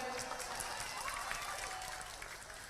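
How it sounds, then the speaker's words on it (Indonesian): Audience at a religious sermon clapping together, a quiet, even wash of many hands that continues briefly without speech. "Tepuk tangan buat bapak ini."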